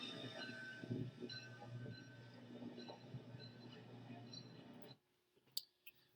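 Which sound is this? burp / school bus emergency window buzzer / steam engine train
steam engine train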